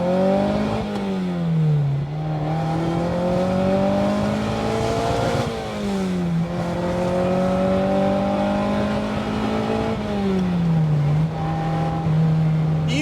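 A 2-litre Ferrari 308-type engine drives and accelerates from inside the car, revving up through gears with repeated climbs and dips in pitch as shifts occur, loud and continuous.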